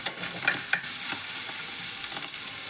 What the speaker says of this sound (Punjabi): ਸਾਡੇ ਮਸਾਲੇ ਨੂੰ ਭੁੰਨ ਲਾਂਗੇ